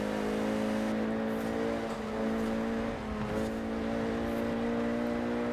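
Renault Clio RS 197 hatchback driven in the racing game Forza Horizon 4 on a Thrustmaster wheel, its engine holding a steady, loud droning hum with a brief dip and swell midway, with no talking.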